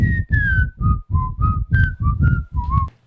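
A person whistles in imitation of the R2-D2 astromech droid from Star Wars, producing about eight short, rhythmic warbling chirps with rising and falling pitch, close and clear with no talk.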